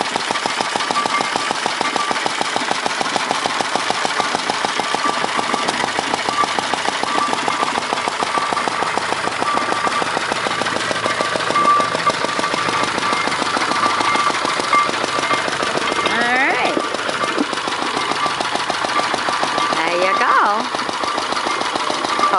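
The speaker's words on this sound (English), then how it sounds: "It's a McCormick Deereing engine." A McCormick Deering engine drives a double wood splitter with a steady, even chugging beat that runs unbroken throughout, with a few brief sharper bursts near the end.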